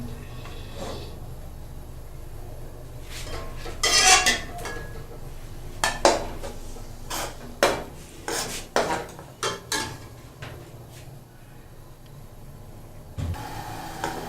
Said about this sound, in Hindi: कुकिंग ऑयल डालेंगे और इसके साथ ही इसमें प्याज डाल देंगे